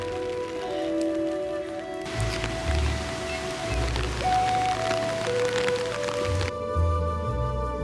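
Steady rain patters in Tokyo over a low rumble, with a sustained tonal hum and shifting background noise underneath.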